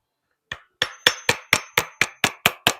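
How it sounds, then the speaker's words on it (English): Chisel struck repeatedly to pry old factory-glued foam surrounds off vintage Klipsch KG3 speakers, nine sharp, evenly spaced knocks after a brief silence, close and loud. "you just work your chisel around the outside and it comes free"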